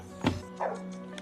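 An angry dog barks inside a house, two short muffled barks heard from a distance behind a steady background hum.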